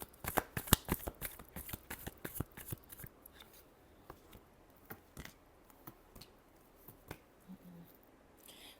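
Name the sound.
shuffling tarot cards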